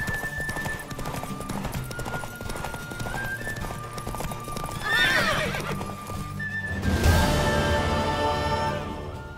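Hooves pound in a fast galloping rhythm during a horse race in the video game The Witcher 3: Wild Hunt, and a horse whinnies twice over a low background hum.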